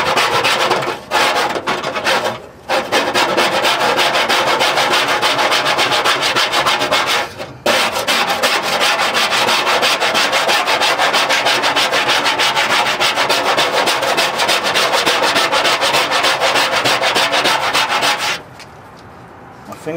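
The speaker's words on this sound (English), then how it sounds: "Yeah, I actually scraped the whole thing completely down." A hand scraper grinding steadily across rusty metal on a Ford F100 truck radiator support, a loud, continuous rasping scrape at close range with a few brief pauses and a quieter tail at the end.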